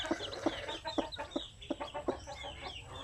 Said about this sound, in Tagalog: May sisiw na pala dito na hindi ko alam.